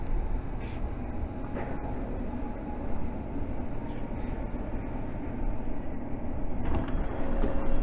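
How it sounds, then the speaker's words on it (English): A Pendolino passenger train rushes past a station with a steady, loud roar of wheels on rails, holding strong throughout and swelling slightly toward the end. "Up goes the Pendolino"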